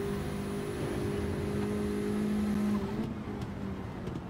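Honda Integra racing in GT7 on the Nordschleife, its engine held at full throttle with a steady, loud drone under the sound of the tyres and track, easing slightly near the end.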